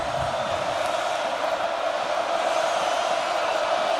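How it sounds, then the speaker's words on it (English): A football crowd at Kinnick Stadium roars steadily, a dense, loud wash of cheering from the Iowa home fans rising to back their defense, sustained and unbroken throughout. "Kinnick crowd trying to get loud for their defense"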